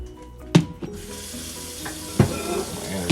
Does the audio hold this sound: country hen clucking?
no